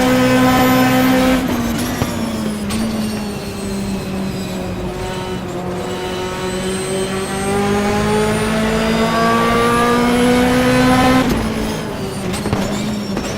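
A GT2 race car engine screams around Sebring in rFactor, the simulated motor rising through high revs, dipping briefly on a shift or lift near two seconds, then holding steady before another short lift near eleven seconds, loud and alone.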